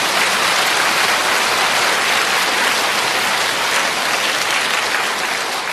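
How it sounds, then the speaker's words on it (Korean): A hall audience at a church lecture breaks into loud, dense, sustained applause that holds steady throughout with no talking. "박수 좀 쳐줘. 이제 박수 좀."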